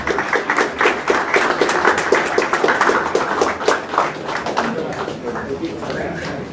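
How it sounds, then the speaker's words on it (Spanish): Audience applause welcomes a lawyer invited to the head table at a book presentation, a dense patter of clapping from a crowd that continues steadily, with voices mixed in underneath. "Lo recibimos con un fuerte aplauso."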